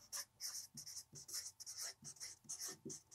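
Pen writing on paper in a classroom geometry lesson, with repeated close scratchy strokes in short rhythmic bursts, each stroke ending in a soft tap, alone without talk.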